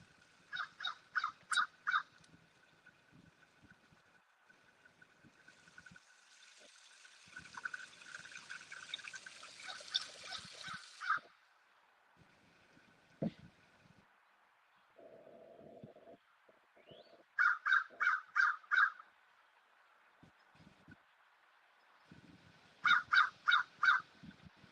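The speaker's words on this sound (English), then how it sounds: "Here's a crow." Outdoors, a crow caws in repeated bursts of several harsh calls, fairly near, with quiet gaps and soft background noise between the call groups.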